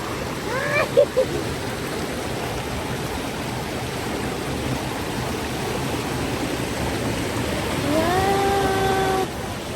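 Water from a lakeside waterfall and stream pours in a steady, broad rush throughout, with a brief voice near the start and a whistle-like tone near the end.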